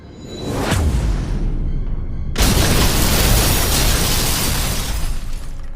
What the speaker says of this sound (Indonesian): Sebuah ledakan api kecil meletup dari telapak tangannya